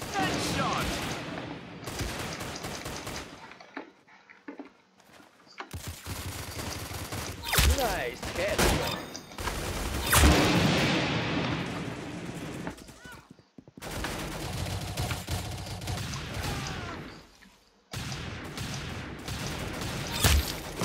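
Rapid gunfire from Roblox Arsenal, with bursts of automatic shots and single cracks coming in loud clusters across the clip, broken by short quiet gaps, with game sound effects and a voice talking in between.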